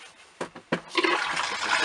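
An RV toilet being flushed during winterizing, water rushing and gurgling steadily after a few short bursts, close and fairly loud.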